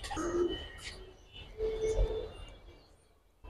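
Silver pigeons give soft, low coos in two short phrases with a quiet pause between, close by and fairly faint, with no talking.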